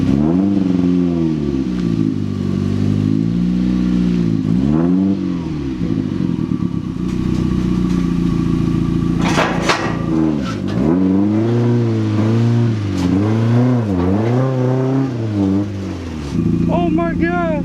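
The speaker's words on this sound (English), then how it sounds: "get the Miata on this here trailer with the sandpaper brakes" A Mazda Miata fitted with sandpaper brake pads drives up onto a trailer, its engine droning and revving unevenly with rising and falling pitch, loud and close, with clattering and a voice speaking over parts of it.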